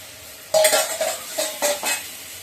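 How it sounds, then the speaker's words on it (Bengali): Cooked ingredients being mashed in a pan with a utensil, giving a few loud scraping, clattering strokes over a soft sizzle, with no talking. "একবারে সব কিছু একটু ম্যাশ করে দিচ্ছি"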